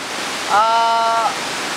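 The Bumbun waterfall at a nature tourism site near Tumbang Olong gives a loud, constant rushing roar throughout, with a brief tonal voice rising over it in the middle.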